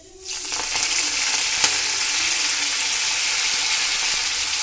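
Cumin, mustard seeds and garlic hit hot oil for moong dal varan and burst into a loud, continuous sizzle that starts abruptly and holds steady, with faint pops and no talk.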